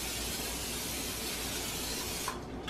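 A steady non-stick cooking spray hisses continuously for a couple of seconds, close and even, then cuts off abruptly near the end.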